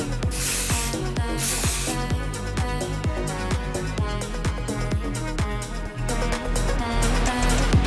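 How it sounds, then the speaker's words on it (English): Redken Fashion Work 12, a light-hold hairspray, is sprayed onto hair in two short hissing bursts near the start, with music playing steadily underneath throughout. "now I'm gonna use Redken's Fashion Work 12. It's a very light holding hairspray"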